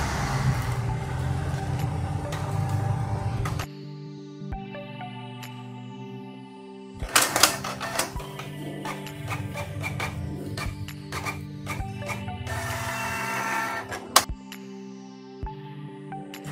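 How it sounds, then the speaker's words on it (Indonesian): A Canon IP2770 inkjet printer with blinking lights runs an automatic print after an EEPROM reset, whirring and humming through motor runs that stop and restart. Sharp clicks and clacks come up close, with short quiet gaps between bursts. "Printer akan mencetak secara otomatis."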